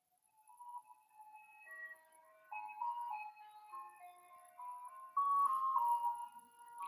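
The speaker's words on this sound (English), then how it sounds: "That sounded like a very religious freaking song." An ice cream truck plays a slow, solemn, hymn-like melody in thin electronic tones, faint and distant, its notes drifting up and down with no one talking.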